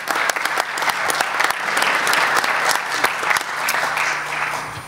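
An audience at a corporate and entrepreneurship forum applauds a presenter with steady, dense clapping that lasts the whole stretch at moderate level, with no talk over it.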